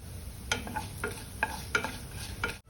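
Whole spices including fennel seeds, cumin, a bay leaf and stone flower frying in ghee for green chicken biryani, with a soft crackle and several sharp pops and stirring scrapes at close range, no talk.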